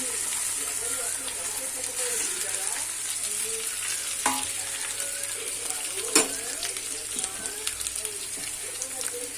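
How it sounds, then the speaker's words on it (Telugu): Potato and carrot pieces fry in a pan, a continuous soft sizzle with occasional clinks of stirring, steady and moderately quiet throughout. "ఆలుగడ్డ కట్ చేసుకున్న ఆలుగడ్డ క్యారెట్ ముక్కలు వేసేసుకున్నారు రెండు ఒకేసారి"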